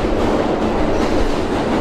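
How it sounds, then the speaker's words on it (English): Train passing close by a college campus building, a loud, steady roar with faint rhythmic clatter of wheels on the rails throughout. "You can't hear me because of the train."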